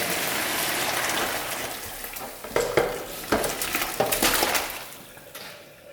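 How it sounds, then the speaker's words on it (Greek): Water is poured off a pot of boiled offal, spleen and sweetbreads, for Greek boubari sausage. It sounds close and uneven, a hissing, splashing stream with sharper gushes and splatters that fades toward the end. "Χύνουμε το νερό"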